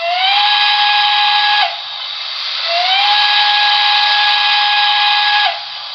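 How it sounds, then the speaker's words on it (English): A Broadway Limited diecast PRR L1s model steam locomotive sounds its grade crossing whistle: two loud, close, steady chime blasts, the first short and the second long, each starting with a brief upward bend. "Good to hear the grade crossing whistle again."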